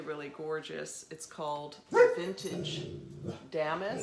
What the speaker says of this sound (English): Sorry for the dog noises.